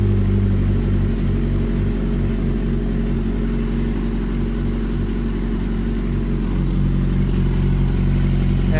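A Yamaha FZ6 motorcycle engine idles steadily at around 1250 to 1350 rpm during a dyno tuning session, a constant close, loud, low mechanical drone with no revving.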